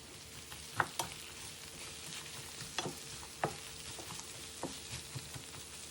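Carrots, onions and tomato paste fry in a pan for borscht, a low, steady sizzle with scattered sharp clicks and scrapes of stirring, faint and close with no voices.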